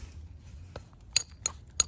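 A few sharp, bright clinks of a hammerstone striking stone during stone knapping, three louder taps near the end, in a quiet space.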